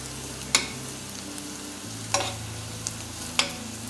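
Ingredients for a Kerala-style fish curry sautéing in a pan, with a low steady sizzle and three or four sharp spoon clinks against the pan, no voices.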